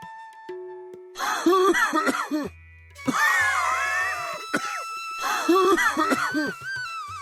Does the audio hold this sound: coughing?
yes